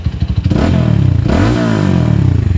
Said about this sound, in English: You can hear that the exhaust is really broken in now